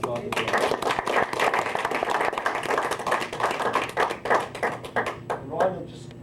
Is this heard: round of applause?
yes